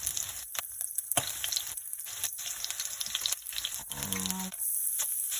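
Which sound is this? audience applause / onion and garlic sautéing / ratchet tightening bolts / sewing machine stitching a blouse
onion and garlic sautéing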